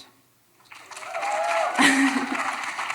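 Audience at an AmeriCorps anniversary celebration in Texas breaking into applause and cheers after a brief quiet moment, a swelling crowd roar with whoops rising midway and holding steady.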